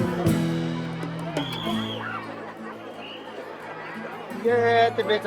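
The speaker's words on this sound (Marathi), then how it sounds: "भरपूर गर्दी आहे." A dense crowd chatters at the Aundha Nagnath temple in Hingoli. Many overlapping voices form a steady babble close by, with bits of laughter and a louder voice rising near the end.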